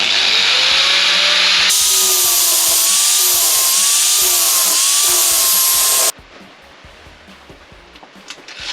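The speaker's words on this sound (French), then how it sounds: "Donc du coup il va falloir meuler." Power grinder cutting into a metal Humvee geared hub heat sink cover, a loud steady whining grind for several seconds with wavering pitch, then stopping abruptly into quiet room noise.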